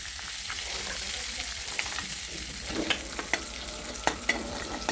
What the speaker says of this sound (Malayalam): അണ്ടിപ്പരിപ്പ് ഇടാം